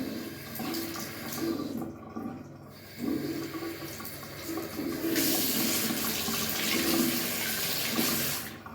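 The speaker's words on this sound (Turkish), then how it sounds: "ben suyu açıyorum ve ılık suyla ilk başta bunu yıkayacağım burasını" A tap runs lukewarm water into a sink for washing a makeup brush, starting after some handling noises and settling into a loud, steady rushing stream that continues to the end.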